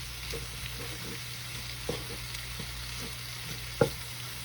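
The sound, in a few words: stirring flour into frying potatoes and vegetables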